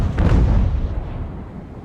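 Sailing-ship cannon fire from the naval video game Ultimate Admiral: Age of Sail lands as one loud, deep boom that rolls and fades over about two seconds, heard alone.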